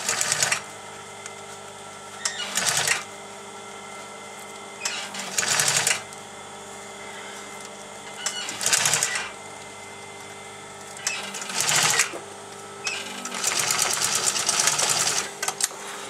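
Sewing machine stitching leather corset pads with a standard non-leather needle, running in several separate bursts of rapid mechanical stitching with pauses between, close and clear, with no talking.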